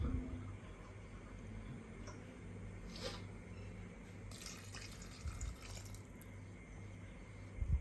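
Water is poured into a pan of mushroom tomato curry, giving a soft steady splashing and trickling with faint clinks, fairly quiet against a low background hum.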